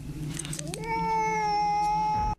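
Cat in the 1989 horror film Pet Sematary, giving one long drawn-out meow that rises in pitch, then holds steady over a low background hum before cutting off.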